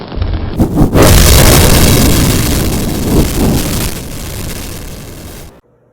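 Fireball explosion effect in a fantasy audio story, a loud roaring blast that bursts in after a few soft thumps, rumbles heavily for several seconds, and then cuts off abruptly.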